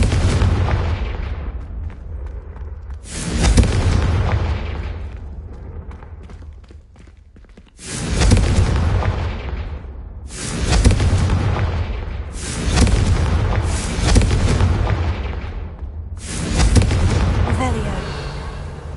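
Repeated heavy blasts from the Confringo fire spell in Hogwarts Legacy, about five booming explosions spaced a few seconds apart, each loud and close with a rumbling tail, and a quieter stretch between them.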